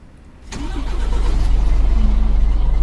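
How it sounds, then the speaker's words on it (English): A Scania P310 truck engine in Euro Truck Simulator 2 cranks and starts with a sharp onset, then settles into a loud, steady, low idle that rumbles on to the end. "Let's start her up, shall we?"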